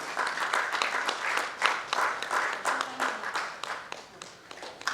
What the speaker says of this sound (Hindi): जोरदार तालियों से स्वागत कीजिए बंटी भैया और गोपाल देवी जी का।